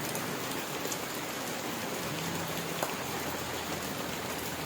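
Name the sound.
heavy rain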